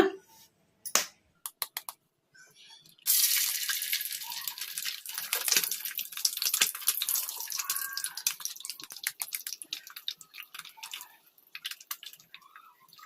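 Eggs dropped into hot oil in a kadai on a stove: a few sharp drips and taps, then a loud, sustained crackling sizzle that bursts in and carries on steadily to the end.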